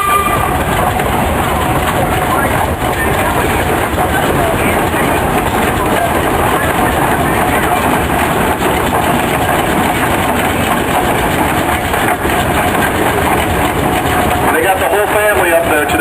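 A 1920 Huber 16 horsepower return flue steam tractor runs loud and steady at a Wisconsin threshing show, its chugging and mechanical clatter continuous for the whole stretch amid outdoor show noise.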